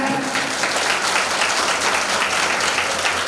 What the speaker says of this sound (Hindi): यमराज के लिए जोरदार तालियों से स्वागत